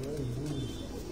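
A pigeon on a rooftop gives a brief, soft coo at close range, with low murmuring voices in the background.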